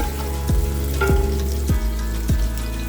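Sliced garlic and red onion frying in hot oil for pork sinigang make a loud, constant sizzle, broken by a few knocks in a regular rhythm.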